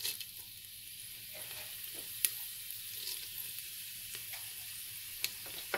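Fennel seeds fry in hot oil and ghee in a pan for prawn biryani, a low, steady sizzle with occasional sharp pops and ticks, no voices.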